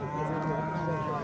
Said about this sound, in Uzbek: Mana bu katta sigir ko'raverasiz.